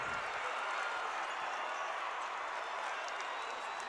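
Crowd in a high school basketball gym buzzing after a dunk, a dense steady roar of cheering and clapping at a distance, with faint squeaks and thuds mixed in.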